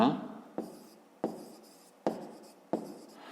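Pen strokes of an answer being handwritten on paper during a fifth-grade maths exercise, four quick scratchy bursts at steady intervals, close and quiet.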